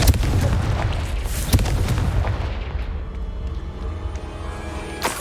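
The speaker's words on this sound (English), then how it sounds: "Confringo!" A Confringo explosive spell goes off in Hogwarts Legacy: a loud, booming blast with a sharp hit near the start, a second burst a moment later, then a rumbling decay and a faint final pop.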